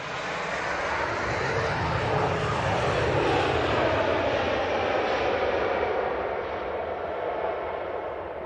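An airliner arriving fast at Manchester Airport roars past close by, a loud sustained engine rush that swells and sweeps in pitch as it passes, with no talk over it.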